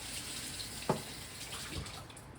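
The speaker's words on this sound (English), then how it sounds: "So I'm just gonna kind of rinse this off a little bit." Food is rinsed under a kitchen tap, a soft steady stream of running water with a brief clatter partway through, heard fairly faint and with no talk.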